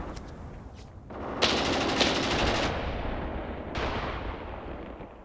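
Machine gun fire in the war game Graviteam Tactics, aimed at enemy infantry: dense, sustained bursts of rattling shots with the echo of distant gunfire, loud and continuous, with a fresh burst starting near the end.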